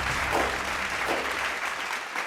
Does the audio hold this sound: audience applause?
yes